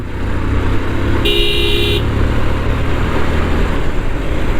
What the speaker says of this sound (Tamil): ஏன்டா ஹார்ன் அடிக்கிறீங்கன்னு கேட்டால், இது கொஞ்சம் குறுகிய சந்து